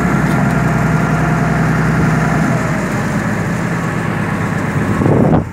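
A motorboat engine idles at the boat-boarding area on the Saladillo stream in Rosario, Argentina, a loud steady low rumble with constant vibration that shifts briefly near the end.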